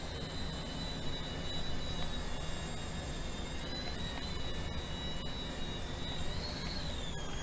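A steady high-pitched motor whine with a constant airy rotor hiss holds throughout, the pitch wavering slightly as a small DEERC DE52 2.4GHz RC toy helicopter hovers nearby.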